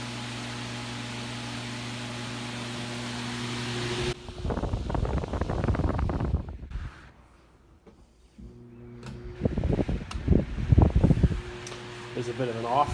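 A vintage Vornado Behemoth fan runs on low after an oiling, giving a steady airy whoosh with a faint hum. Bursts of handling noise or voice come and go over the fan, which continues faintly underneath.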